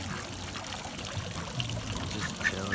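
Ducks paddling and preening in water along a trail make soft splashing and trickling sounds, with a few faint quacks and bird calls in the open air.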